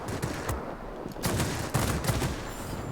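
Aircraft guns on a MiG-9 jet in World of Warplanes fire in dense, continuous bursts, a loud rapid rattle of shots with no break, the guns prone to overheating.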